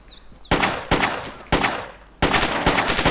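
Four loud, close gunshot bursts ring out in DayZ, each sharp crack followed by a short decaying tail, spaced roughly half a second to a second apart.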